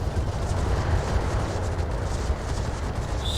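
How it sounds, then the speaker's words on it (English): LRM missile explosion in Battletech, a sustained deep rumbling blast that roars continuously at high volume with a brief brighter crackle at the end. "That's an LRM explosion."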